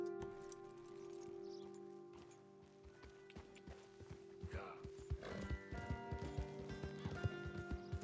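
Horse hooves clip-clop in Red Dead Redemption 2, settling after a few seconds into a steady, close galloping rhythm over sustained game music, with a voice now and then.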